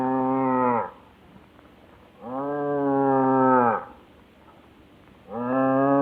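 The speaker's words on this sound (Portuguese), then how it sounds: "E como mugia o pobrezinho." Three long, loud cow moos, each a drawn-out bellow separated by short quiet gaps, close and clear with no other sounds.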